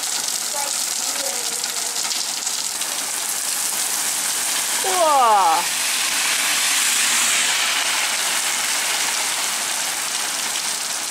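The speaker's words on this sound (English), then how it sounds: "I can't resist filming really fast, heavy rain." Very fast, heavy rain pouring steadily outside a home in Wales, a dense continuous hiss of drops close by, with a brief exclamation from a voice midway.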